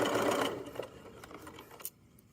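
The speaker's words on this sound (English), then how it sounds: "I'll just keep sewing this." A sewing machine stitches a hoodie hood facing in a quick, rapid whir close by, slowing into a few short bursts and clicks before stopping.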